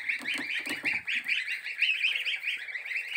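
Geese honk loudly and continuously at close range, a dense overlapping chorus of nasal calls from a small farm flock, with some low rustling and knocking in the first second.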